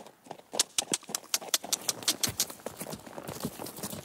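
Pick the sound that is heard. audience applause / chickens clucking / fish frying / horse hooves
horse hooves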